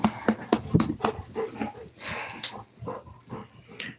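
Puppies whimper and yip in short, uneven bursts close by, with soft high cries scattered over a few seconds.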